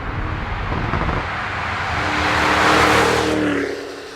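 Supercharged Cadillac Escalade V roaring under hard acceleration, its engine note climbing and growing louder to a peak before it eases off, heard alone without talk.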